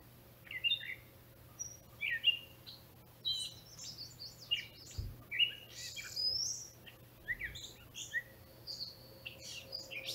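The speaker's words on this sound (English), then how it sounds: "I can't get over the wonderful bird sounds at this location." Several birds chirp and sing in bright, overlapping bursts against a quiet outdoor background at Coal Lake, Alberta, Canada, with no voices.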